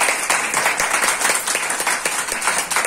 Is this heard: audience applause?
yes